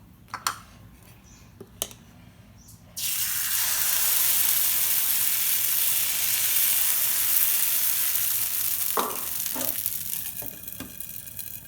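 Appam batter cooks on an oiled pan. After a few quiet clicks, a loud, steady hiss of sizzling starts and continues, and a few clatters of a utensil come near the end.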